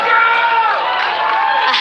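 A lively crowd cheers and shouts at a moon rocket launch event, a continuous loud wash of voices with whoops rising over the din throughout.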